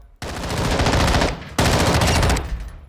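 Rapid automatic fire from an M13B rifle fitted with a muzzle brake on a firing range in Call of Duty Modern Warfare II, two loud sustained bursts separated by a short pause.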